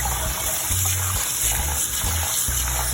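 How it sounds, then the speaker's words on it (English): Rice being washed with water in a bowl, a steady close rush of running water and sloshing, loud and continuous. "You have to make sure you wash your rice"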